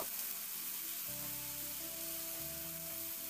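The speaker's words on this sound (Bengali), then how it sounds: "এবার আদা রসুনের পেস্টটা দিয়ে নাড়াচাড়া করে যতক্ষণ না পর্যন্ত আদা রসুনের যে কাঁচা গন্ধটা আছে চলে যায় ততক্ষণ একটু নাড়াচাড়া করে ভেজে নেব" Ginger garlic paste fries in hot oil and is stirred round the pan, a steady soft sizzle with faint scraping running throughout at moderate level, no voices.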